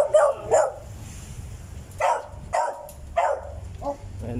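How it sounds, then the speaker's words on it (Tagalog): A dog barks in short bursts of two or three near the microphone, spaced a second or so apart, at a used car lot beside a car. "May aso dito."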